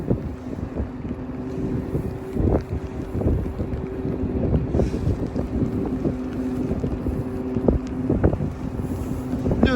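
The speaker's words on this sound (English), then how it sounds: "A lot of side wind" Strong side wind at sea aboard a Nordhavn 76 yacht off Northern California, a constant roaring rush with buffeting and a steady low engine hum beneath, continuous and fairly loud without speech.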